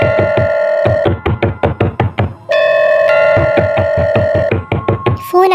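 A phone rings with a steady electronic tone amid loud, rapid knocking on a door, inside a spoken horror story; the ringing comes in two bursts with a pause between, the knocks hard and close.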